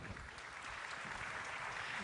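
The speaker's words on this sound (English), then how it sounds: "Clearly, I'm going to clap to that." An audience applauds at the close of a panel discussion among foreign ministers, a dense, steady wash of clapping from a large crowd heard from a moderate distance.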